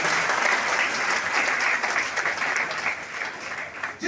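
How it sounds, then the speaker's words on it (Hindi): An audience at a college event applauds, a dense, loud, sustained wash of many hands clapping that holds steady for several seconds before thinning slightly at the end. "प्लीज एक बार जोरदार तालियां"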